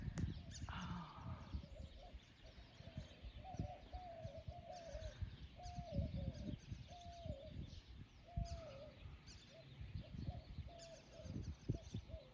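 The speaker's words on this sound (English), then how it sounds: "Doves are busy this morning." Doves coo in a backyard with trees on a morning walk, soft repeated hooting notes in a loose steady rhythm, fairly distant beneath nearby footsteps and rustling.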